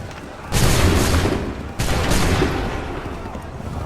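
A musket volley fired on command in Assassin's Creed 3 during the Lexington and Concord battle: two loud, broadband blasts in quick succession, each a sharp crack with a long rolling decay, fired alone without talk.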